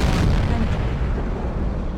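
Tank cannon fire aimed at an E-100 turret in World of Tanks, a dense, sustained booming rumble that fills the whole stretch at steady loudness with no clear separate shots.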